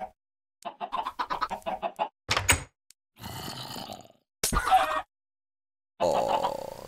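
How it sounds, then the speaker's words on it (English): Chickens clucking and squawking in a video game alongside a horse, a run of rapid clucks followed by several scattered bursts of squawks and calls, close and fairly loud with silent gaps between. "Oh, that was my chickens and the horse."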